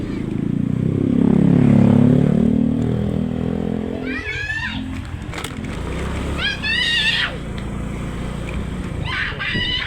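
A Motorstar motorcycle engine revs up close in a rural Philippine area, rising loudly and then fading while roosters crow repeatedly nearby.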